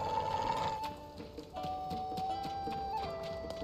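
A horse in Zelda: Tears of the Kingdom trots with soft, faint clip-clop hoofbeats beneath calm in-game music, with no voices.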